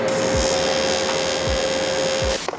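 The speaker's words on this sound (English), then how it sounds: "I'm gonna have a crack at TIG welding now." TIG welding intercooler piping for a turbo BMW E36 with an M42 engine: a steady, close electric buzz with a constant hiss that holds evenly, then cuts off abruptly just before the end.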